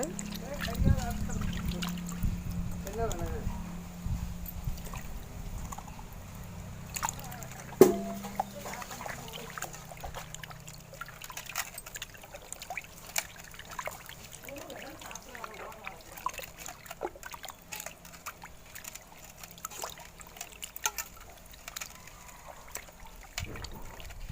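Goat intestine rinsed by hand in water, giving soft sloshing, squelching and trickling sounds that come and go over the whole stretch, quiet and close, with someone talking over them.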